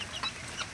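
Soft clucking from a hen with her two-week-old chicks, a few brief calls rising faintly over low farmyard background noise.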